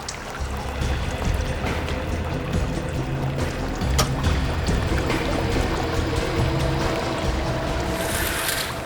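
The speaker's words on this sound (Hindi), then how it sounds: "पानी बहने की आवाज आ रही है।" Water flowing steadily nearby, a continuous broadband rushing and trickling wash that holds at an even, fairly loud level for about nine seconds, with a brighter hiss near the end and no speech.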